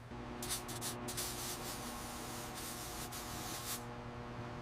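Spray gun laying clear coat on a 1933 Dodge truck restoration, a steady hiss running in several bursts of varying length over a constant low workshop hum.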